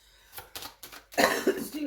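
A few short coughs, then a louder burst of throat-clearing coughs up close, with no talking.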